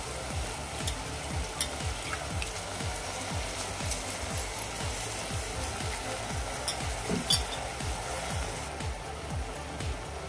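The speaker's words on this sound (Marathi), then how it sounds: "मी भिजवलेला तांदूळ घालून घेते।" Soaked rice goes into a pot of sautéed bombil (Bombay duck) for bombil rice, with sizzling and repeated stirring and scraping. The frying texture is steady and close, with no speech.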